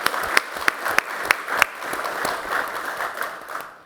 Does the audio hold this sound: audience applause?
yes